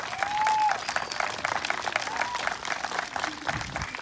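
A crowd claps outdoors at a unity march in Richmond, Texas, giving a steady patter of applause for a few seconds, with faint voices and a brief whistle-like tone above it.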